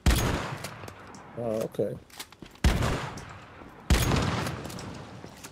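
Bursts of rapid gunfire from the survival shooter Once Human, loud and close, with sharp repeated shots across the clip and someone speaking briefly between volleys.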